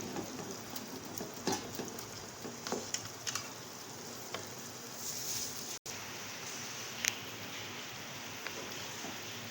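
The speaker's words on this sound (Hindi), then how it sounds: "अब मैं इसको थोड़ा सा भूनूंगी ताकि ये मसालों में अच्छी तरीके से" Beef frying with spices in a karahi over high flame, with a steady soft sizzle, some crackles and the scrape of stirring, heard close and without talk.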